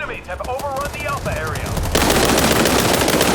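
Rapid automatic gunfire rattles loud and close in a World War 3 video game, a continuous burst taking over the second half, while players shout and talk over the game audio before it.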